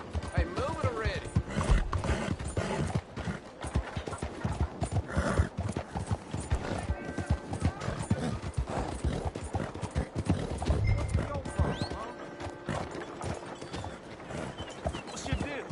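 A horse in the video game Red Dead Redemption 2 gallops in steady rhythmic hoofbeats for the whole stretch, with occasional snorts and game effects, while a character talks over it.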